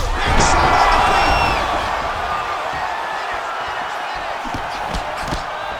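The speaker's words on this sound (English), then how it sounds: "The crowd's going crazy" Dense roar of an arena crowd cheering and yelling at an MMA fight, loud and sustained throughout, slightly swelling at the start and easing to a steady din.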